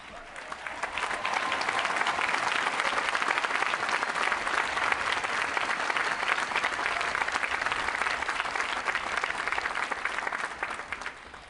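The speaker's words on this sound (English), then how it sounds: "Will you join me in a round of applause for the Fort Lee Army Band" Sustained applause from a large audience at a university graduation ceremony, steady and dense crowd clapping throughout with no talk over it.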